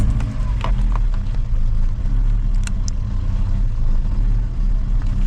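A Vauxhall Cavalier 2.0 16v engine idles steadily up close, a loud, continuous low rumble with a few faint clicks and rattles over it and no talking.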